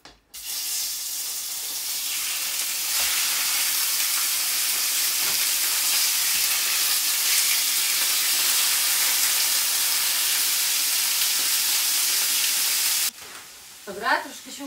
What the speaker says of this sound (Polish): Będzie skwierczeć.